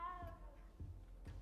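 A small cat in Hogwarts Legacy gives a couple of short, faint meows, quiet and close amid low game ambience.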